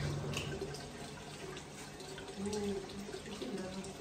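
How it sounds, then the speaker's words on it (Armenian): Water runs in a steady, continuous rush, with faint voices in the background. "ջրի ձայնը սա է"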